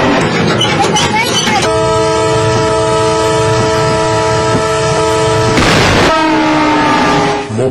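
A train passes a railway crossing with a long, loud, steady horn blast held over heavy rumbling wheels, a brief burst of clatter near the end, then the horn resumes more softly.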